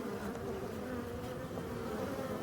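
Local black honeybees entering a hive make a continuous, dense, close buzzing hum that stays even and steady throughout.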